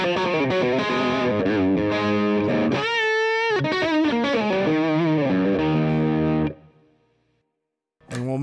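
Electric guitar through a modded Boss DS-1 Tri Roxx Plus distortion pedal with the gain at 3 o'clock, played as a thick, saturated riff with chords and a bending lead phrase, stopping abruptly before a final strum.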